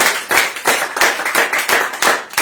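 A church congregation claps in a steady rhythm of loud, sharp hand claps, about four per second, with the sound filling the room and no voices over it.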